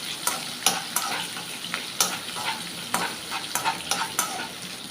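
Sliced onion frying in oil in a pan for cabbage palya, a steady close sizzle broken by sharp scraping knocks of a spatula stirring at irregular intervals, with no talk.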